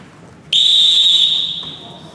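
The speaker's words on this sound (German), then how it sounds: "jetzt Ihr Pfiff bitte zum Antreten." A single sharp referee-style whistle blast sounds abruptly and loudly, holding steady for about a second before tapering off, blown in a television game-show studio to call participants to line up.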